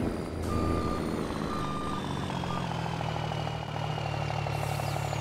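A four-wheel-drive truck in a farming simulator video game idles with a low engine rumble while its reversing alarm beeps in a steady, regular rhythm as it backs slowly into line.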